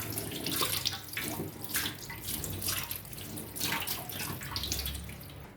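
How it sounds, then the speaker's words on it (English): Running tap water rinses freshly peeled onions in a kitchen sink, a steady close splashing and gushing that shifts as the onions are turned under the stream, with no talking. "When you already peel it out, you just wash it with the water."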